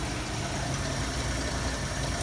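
A 1973 Ford Mustang 302 V8 with a rebuilt two-barrel 2100 carburetor idles at raised RPM, giving a steady, close, low engine rumble with no gaps.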